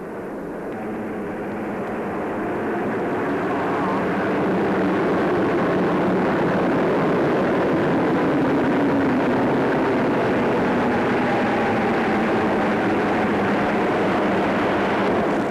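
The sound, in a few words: military jet aircraft flypast at RAF coronation review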